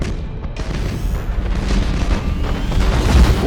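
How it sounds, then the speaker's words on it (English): A starship blows apart in the space battle game Battlefleet Gothic: Armada, a loud, sustained rumble of deep booms and eruptive blasts that rolls on and swells toward the end. "We should keep our distance from the enemy ship, sir. It will soon explode."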